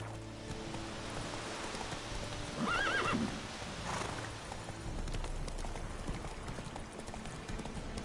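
Roach, a horse in a video game, lets out a clear neigh mid-clip over steady galloping hoofbeats, with light rain-like patter in the background.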